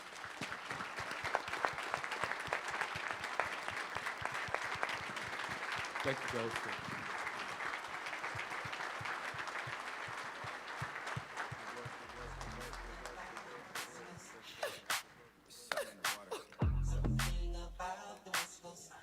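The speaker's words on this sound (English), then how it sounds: "Let's give them a round of applause." Sustained audience applause fills a large hall at the A2MEND 15th Annual African American Male Summit 2022, holding steady before breaking into scattered claps and low thumps near the end as someone briefly speaks.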